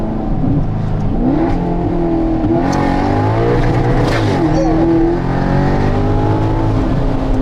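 A Maserati GranTurismo Sport engine revs loudly and up close, its pitch climbing and falling through sweeping rev changes in a continuous, powerful roar.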